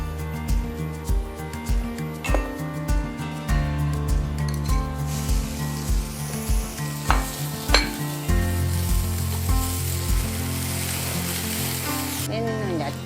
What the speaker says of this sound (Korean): 이 재료들을 볶아 줄 건데요